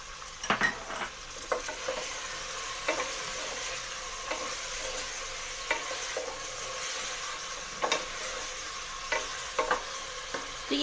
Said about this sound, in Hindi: ये प्याज अदरक लहसुन के साथ भून लिया हमने